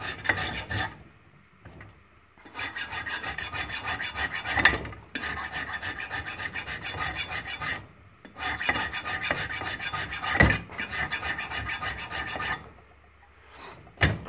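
Metal file rasping along the edge of a broadhead held in a vise to convert it from double bevel to single bevel, steady repeated back-and-forth strokes in long runs with brief pauses, close and without talk.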